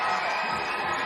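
Basketball crowd in Newcastle cheering loudly during a Newcastle Eagles vs Sheffield Sharks BBL game, a brief, dense roar of the arena crowd.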